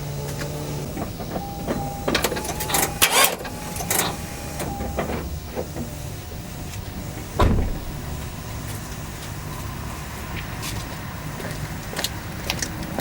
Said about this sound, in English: I heard the starter try to start